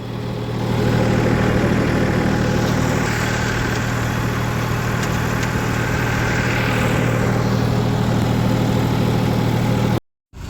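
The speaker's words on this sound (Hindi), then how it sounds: "ट्रैक्टर निकल गया है जी बाहर" A farm tractor engine runs loudly and steadily close by in the field, a constant low rumble with a deep hum held for about ten seconds before cutting out abruptly near the end.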